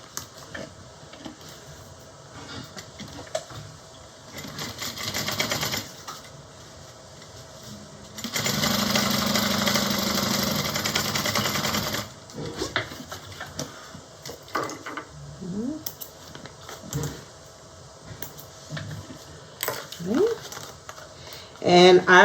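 A sewing machine runs in one short, steady burst while basting the top of a small bowler bag closed, with quieter handling sounds and a voice speaking before and after.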